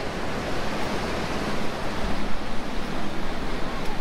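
Ocean waves breaking on a beach in the south of France with surfers out, a steady broadband wash of surf with rolling swells, fairly close and continuous, no talk.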